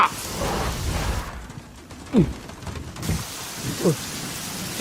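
Steady rain patters throughout, with a couple of short sharp swooping noises standing out above the downpour. No voices.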